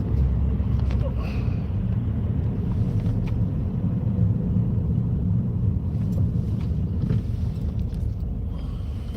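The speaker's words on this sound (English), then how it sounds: "I'm in the rush hour traffic" Inside a car in rush hour traffic, a steady low road rumble and engine drone fills the cabin, constant and close, with faint passing vehicle sounds.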